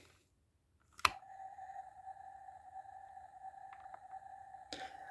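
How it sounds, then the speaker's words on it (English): A click, then a steady high electronic whirring jetpack sound from a Buzz Lightyear toy with wings open that holds for several seconds before another click ends it, quiet and close. "there is a jetpack sound when the wing is, or when the wings are open and the light's on"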